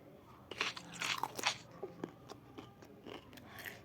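Crunching bites and wet chewing from a character eating in the Toca Boca game, a string of close, crisp crunches over about three seconds with no speech.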